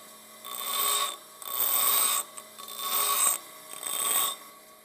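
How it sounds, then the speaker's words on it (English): A drill bit is sharpened against a grinding wheel in four steady passes, each a harsh, hissing grind that swells and fades with short quieter gaps between strokes. No one speaks. "Again, come into the grinding wheel"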